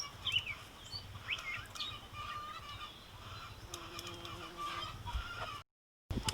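Chickens in a backyard garden between coops cluck and give short calls at a distance, mixed with outdoor ambience and a few louder bird notes.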